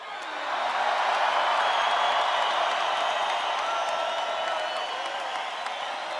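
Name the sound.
rally crowd applause and cheering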